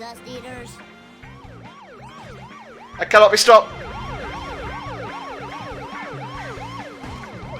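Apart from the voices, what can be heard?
police car siren in video game The Simpsons Hit and Run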